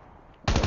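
Automatic gunfire in the mobile shooter game Call of Duty Mobile bursts in abruptly after a quiet moment, a loud, rapid stream of shots running to the end.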